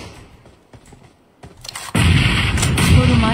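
A grenade explosion in PUBG Mobile follows a few scattered distant shots, erupting loud and close in a sustained, rumbling blast.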